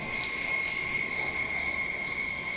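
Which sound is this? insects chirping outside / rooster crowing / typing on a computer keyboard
insects chirping outside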